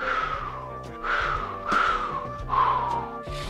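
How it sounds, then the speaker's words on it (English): A cartoon cat whistles nervously in a 1983 animated special. The short, wavering tonal phrases repeat every second or so over soft background music. "Maybe if I whistle, I won't be scared."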